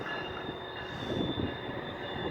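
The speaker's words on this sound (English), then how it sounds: "you see that GO train pass by?" A GO commuter train passing by, heard as a steady broad rumble with a faint whining tone above it, moderately loud and close, without any speech.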